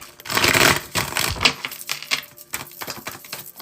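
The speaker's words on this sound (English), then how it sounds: "I need to shuffle that again." Tarot cards shuffled by hand during a live reading make a crisp, rapid clatter of riffling card edges, close and fairly loud, with no talking over it.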